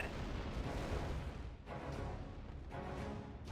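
Capital ship cannon fire in the Star Wars Empire at War space battle game, a continuous rumbling barrage of booming blasts with a few sharper bursts standing out.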